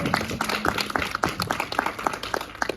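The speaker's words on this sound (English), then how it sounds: "one more round of applause" Audience applause following a film screening at a festival Q&A, a steady wash of many hands clapping at moderate volume with a faint voice briefly audible underneath.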